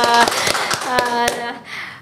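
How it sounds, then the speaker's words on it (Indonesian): Hands clap and tap in a quick, uneven burst at a gathering for the handover of PPPK appointment decrees in Konawe, close and fairly loud. Voices run underneath, and the clapping thins out toward the end. "Tepuk tangan dong"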